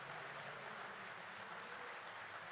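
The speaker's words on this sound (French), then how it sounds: "je voudrais que vous vous applaudissiez, vous." Audience applause at a One Piece conference during the Toulouse Game Show, steady and dense throughout, heard from within a fairly distant crowd.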